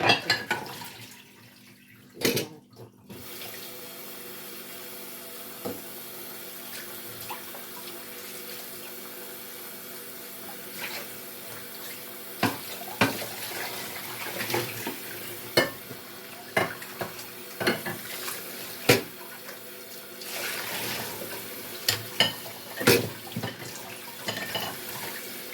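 Tap water runs steadily into a sink while merguez sausages are washed, with close splashing, clattering and handling noises scattered over the flow and no talking.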